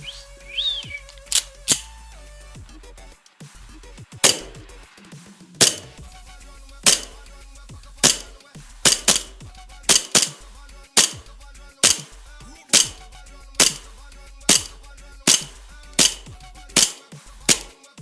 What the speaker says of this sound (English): This is a shooting test of the Elite Force 1911.